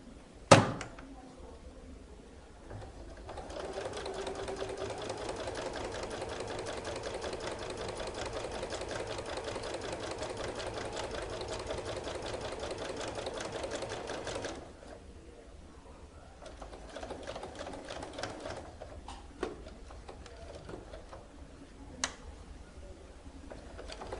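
A sewing machine runs steadily for about eleven seconds, topstitching pressed fabric from one corner along the edges, then stops, leaving quieter handling clicks and taps.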